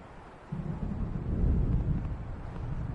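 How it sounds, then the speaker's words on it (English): Thunder from an approaching storm in Alan Wake, a low distant rumble that swells after a quiet start and lingers steadily to the end, no voices. "The storm is almost here."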